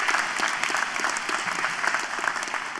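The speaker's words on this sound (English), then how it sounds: "Let's give them a round of applause." A large audience applauds at the RMIT Vietnam 2016 graduation ceremony on the Hanoi campus, with dense, sustained clapping filling the hall from start to finish.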